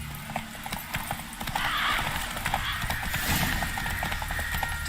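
Horse hooves clip-clop steadily while riding in The Witcher 3, with light mechanical clinks and a brief whinny-like sound, close and fairly loud throughout.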